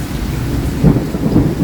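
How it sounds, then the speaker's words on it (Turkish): Heavy rain pours with wind and rumbling thunder during a violent storm on a covered but open-fronted balcony in Istanbul, a dense continuous roar with deep swells of thunder swelling near the middle and end, no talk. "biz çok yüksek ve şiddetli hissediyoruz yağmuru, fırtınayı, rüzgarı burada."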